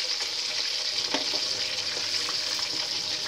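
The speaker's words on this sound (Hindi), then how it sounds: "गोभी फ्राई हो रही है।" Cauliflower florets frying in a pan with plenty of masala, giving a steady, dense sizzle throughout with occasional crackles and light stirring clicks, close and continuous with no talking.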